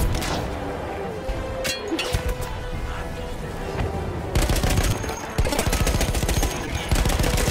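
Machine gun fire in Battlefield 1, scattered shots and clinks at first, then dense rapid bursts of automatic fire that grow louder and continuous toward the end amid battlefield din.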